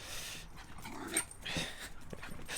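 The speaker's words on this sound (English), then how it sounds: "Oh, look at this dog going crazy." A dog romps excitedly through mud outdoors, giving off scattered quick yips, panting and scuffling splashes at moderate distance, with no talk.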